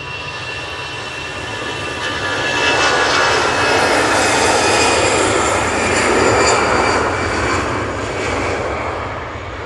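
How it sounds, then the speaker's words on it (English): Jet engines of an EasyJet Airbus A320 roar close by as a broad, steady rumble and whine, swelling to a peak midway and easing slightly toward the end, with no talk. "EasyJet A320."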